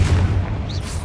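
A Confringo spell explodes in the Hogwarts Legacy video game with a short, heavy boom, dense low rumble filling about a second amid other combat effects.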